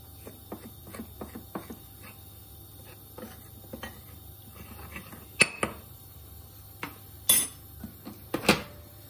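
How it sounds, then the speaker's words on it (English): A spoon stirs fine semolina and corn flour on a plate, making a series of light taps and scrapes at an uneven pace, with a few louder knocks toward the end. "Give that a stir using a spoon."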